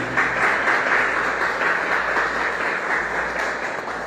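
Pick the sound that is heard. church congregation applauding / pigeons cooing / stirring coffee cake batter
church congregation applauding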